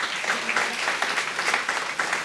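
Audience applause at a Pongal special debate (pattimandram), steady dense clapping from a crowd welcoming the closing speaker, continuous and fairly loud throughout with no talk over it.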